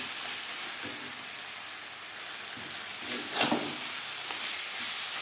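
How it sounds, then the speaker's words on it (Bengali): Mutton fat frying with spices in a pan gives a steady, moderately loud sizzle and hiss, broken now and then by brief scrapes of stirring, with no voices. "খাসির চর্বি 4-5 মিনিট বেশ ভালো করে নাড়াচাড়া করে নেওয়ার পর"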